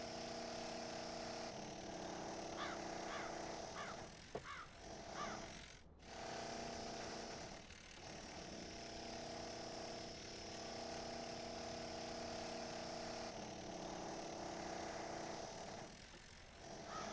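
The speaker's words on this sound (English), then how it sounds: "Bro, why are you drilling holes in my castle?" A constant rough mechanical drilling drone continues throughout, with a few short clicks and bursts over it, as holes are bored into a castle in a horror video game.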